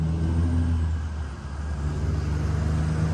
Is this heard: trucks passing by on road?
yes